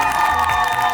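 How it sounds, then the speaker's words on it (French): Wedding guests at a Gabonese civil ceremony in a town hall cheer and applaud the couple, a brief, steady, close wash of crowd noise with whoops over clapping. "il faut applaudir pour eux"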